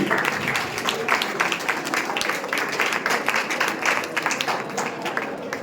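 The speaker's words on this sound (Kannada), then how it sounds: "ಚಪ್ಪಾಳೆ ತಟ್ಟಬೇಕು" An audience at a Women's Day college function bursts into sustained applause, dense overlapping clapping from many hands that stays loud and steady throughout.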